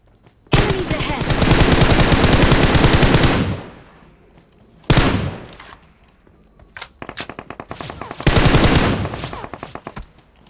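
Long bursts of automatic gunfire in PUBG Mobile, a loud rapid-fire spray of a few seconds, then a short burst, then a string of quicker shots and another sustained burst, with no speech over them.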